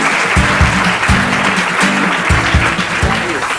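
Loud studio audience applause on a Hindi quiz show, dense clapping throughout, with rhythmic low thumps of music or drums pulsing underneath.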